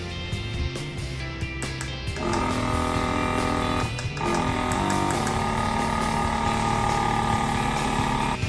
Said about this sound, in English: we're gonna add it in our air compressor